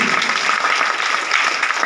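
Loud applause at a business meeting, a thick, continuous roar of many hands clapping together throughout.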